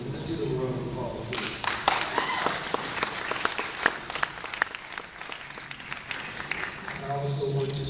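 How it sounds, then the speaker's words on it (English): An audience at a Black women lawyers' forum breaks into loud, dense applause that swells, holds for several seconds and then tapers, with voices briefly audible before and after. "Let's give them a round of applause."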